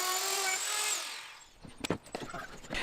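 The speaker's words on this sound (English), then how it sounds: "Corded router, I'm using in that one it's a 1/2 inch upcut spiral with a pattern bushing." Corded router with a half-inch upcut spiral bit and pattern bushing routing wood on a workbench build, a high whine that winds down after about a second, followed by clunks and handling knocks.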